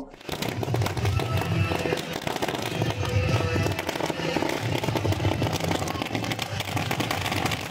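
Firecrackers burst at a village welcome for a visiting leader, a dense run of loud sharp cracks and pops that continues for several seconds, with crowd noise and voices underneath.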